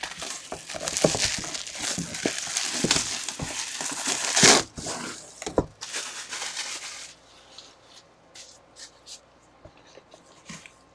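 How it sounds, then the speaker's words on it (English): Plastic shrink wrap being torn and peeled off a sealed box of 2021 Gold Rush autograph jersey football cards, with close, loud crinkling and ripping bursts that fade into sparse, quieter crackles and rustles. "Plastic coming off."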